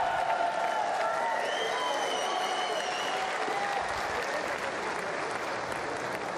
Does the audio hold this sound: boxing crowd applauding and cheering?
yes